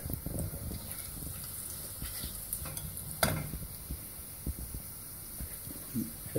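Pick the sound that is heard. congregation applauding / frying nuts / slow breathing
frying nuts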